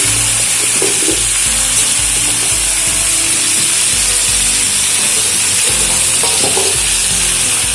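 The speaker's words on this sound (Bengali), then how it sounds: "অনেকটাই সবজি ভেজে নিয়েছি। এবারে বাকি যে সবজিটা আছে এর মধ্যে দিয়ে দিচ্ছি।" Leftover chopped vegetables for labra, a Bengali mixed-vegetable dish, frying in a generous amount of hot oil, giving a steady loud sizzle with occasional stirring scrapes throughout, no talking.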